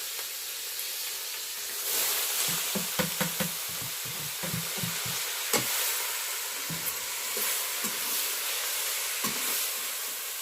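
Radish greens cooking with chana dal in a pan in a village kitchen, a steady sizzle and hiss with repeated stirring scrapes and taps, close and fairly loud throughout, with no talking.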